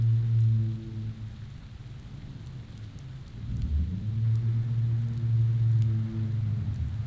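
Rain falls in a steady hush under a low, droning hum. The rumble swells partway through, with faint drips scattered across the top.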